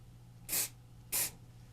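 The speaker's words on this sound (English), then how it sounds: "use my spray accelerator. Just takes a few seconds for it to set up" Two short, sharp bursts of glue accelerator spray hiss close up, evenly spaced, with quiet pauses between them, sprayed onto glue on a guitar peghead veneer.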